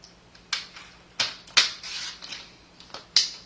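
Cardstock for a zig-zag fold card is cut with sharp, crisp snips, about six separate cuts spaced unevenly at close range, with no talk.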